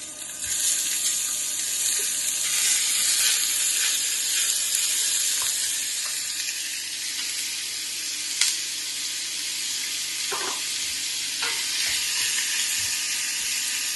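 Beef frying in a hot pan for lasagne, a continuous close hiss and sizzle with a few small clicks and scrapes, no talking.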